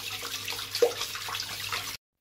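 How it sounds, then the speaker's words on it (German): Hands being washed under a running kitchen tap while cooking pasta: a steady rush of water with small splashes, close and continuous, ending abruptly. "Bei jeder Vorbereitung immer gut die Hände waschen."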